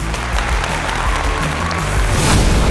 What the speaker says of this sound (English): Round of applause for Dash Upton.